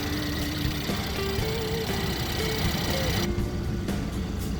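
The engine of a 2019 Mercedes C43 AMG 4Matic Cabriolet runs at a steady idle with the hood open, a continuous mid-level hum with faint whirring tones throughout.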